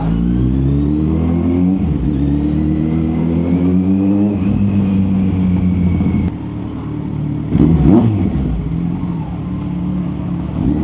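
A 2025 Kawasaki Z900 SE motorcycle engine, loud and close, revving up and down in repeated rising and falling pulls, with gear changes and a burst of throttle near the end.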